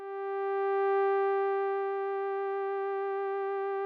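A synthesizer lead plays a single sustained bright tone, full of even harmonics, that swells in and then holds, with a vibrato wobble growing stronger as the pitch slides slightly downward. It plays alone.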